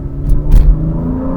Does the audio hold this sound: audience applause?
no